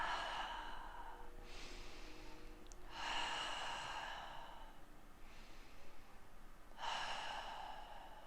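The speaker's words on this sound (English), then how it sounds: "3 more breaths." Slow, deep yoga breathing comes close and quiet, with about four long, airy exhales spaced evenly apart.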